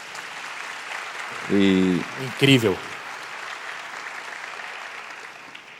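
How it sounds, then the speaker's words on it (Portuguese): Audience applause at a business roadshow event: steady broadband clapping from a crowd runs the whole stretch, while a voice briefly speaks over it in the middle before the clapping continues alone. "Salva de palmas, gente,"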